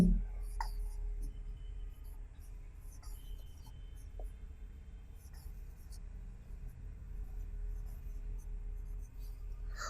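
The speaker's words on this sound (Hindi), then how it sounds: "अगर मैं इसे थोड़ा सा लिखूं तो इसे मैं इस तरह लिखता हूं" Pen on paper as physics notation is written out by hand, faint soft scratching strokes in short bursts over a quiet room hum, with occasional light ticks.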